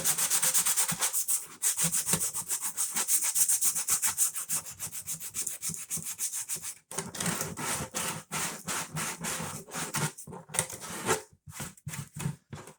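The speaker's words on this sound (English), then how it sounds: "this is 150 grit sandpaper" Steady, continuous rubbing of 150-grit sandpaper on a clay-processing part to remove burrs, close and fairly loud, becoming choppier with short strokes and brief pauses toward the end.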